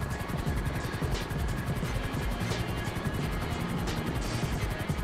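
Steady rotor chop from a police helicopter flying nearby in GTA 5 fills the scene, a loud continuous whirring thud with a faint engine whine and no talking.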